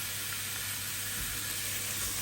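Roast beef searing in a hot pan gives a steady, close sizzling hiss that holds evenly throughout, with no talk over it.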